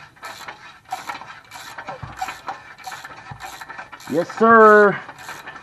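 A ratchet wrench works bolts on a 2001 Toyota Camry during a catalytic converter replacement, giving repeated close clicking strokes in a steady rhythm, with a loud mechanical whine near the end and a brief spoken reply.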